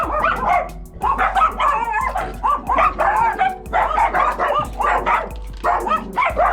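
Small dogs bark continuously in rapid, yappy bursts, loud and close, with several overlapping voices and occasional whimpers.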